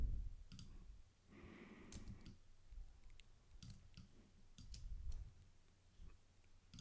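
Computer mouse clicking during Photoshop work, a series of soft, sharp clicks spaced irregularly over a faint background, quiet and close, with a brief low rustle near the start.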